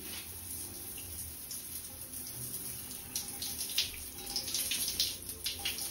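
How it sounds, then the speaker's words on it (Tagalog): Water from a shower runs steadily after being switched on, a continuous hiss and splash with brief spattering bursts, close and moderately loud with no one talking. "Ito yung bukasan ng ating shower"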